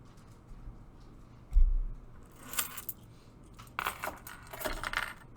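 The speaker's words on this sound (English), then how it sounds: "I lifted my keys right next to the microphone" A set of keys jangles right beside the microphone, a low thump followed by several bright metallic rattling bursts, close and fairly loud against a quiet background.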